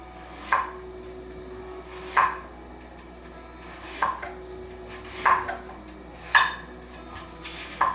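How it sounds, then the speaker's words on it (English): Knife slicing an apple thinly on a cutting board, six crisp single cuts at irregular intervals of about a second or more, close and distinct, with no talking over them. "stick it on my cutting board so you can then slice it as thin as you want it"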